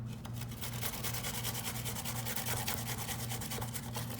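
Fresh ginger root grated against the fine small-hole side of a cheese grater, a steady rapid scraping rasp of repeated strokes, close and continuous with no talking.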